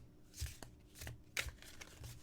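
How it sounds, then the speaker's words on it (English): A deck of tarot-style cards is shuffled by hand, soft riffling and slapping bursts in an irregular rhythm, close and quiet with no voices. "There's another shuffle through the deck."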